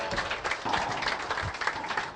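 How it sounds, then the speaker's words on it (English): At a racquetball final, the crowd gives the towel boy a round of applause, a brief, moderately quiet patter of clapping spread evenly through the arena. "as the towel boy gets a hand by the crowd"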